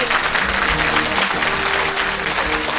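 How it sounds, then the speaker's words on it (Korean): An audience at a Korean book launch event for a provincial governor gives a steady round of applause, full and sustained, with no one speaking over it. "박수 한번 좀 부탁드리겠습니다"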